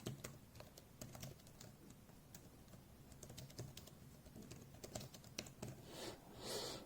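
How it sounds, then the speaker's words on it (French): Typing on a HOU keyboard case for a 10th-generation iPad, a steady run of quick, light key clicks close to the microphone, with a short flurry of louder keystrokes near the end and no talking. "la frappe est quand même beaucoup plus rapide que sur le clavier virtuel"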